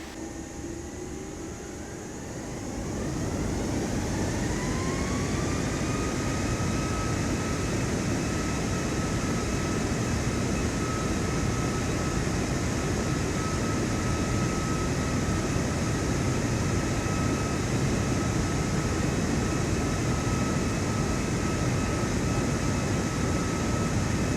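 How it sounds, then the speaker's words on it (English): Boeing 737 MAX jet taking off in Microsoft Flight Simulator 2024, a loud steady engine roar that swells after a quiet start, with a rising turbine whine settling into a sustained high tone, heard from outside with no talking. "we'll be outside for this takeoff so you can enjoy the sights and sounds of the 737 MAX"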